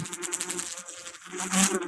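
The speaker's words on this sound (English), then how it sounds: "That was when the bright green blur thing buzzed out from behind it." A fast, fly-like creature buzzes as an audiobook sound effect: a close, loud insect drone with rapid fluttering pulses that swells toward the end, with no talking over it.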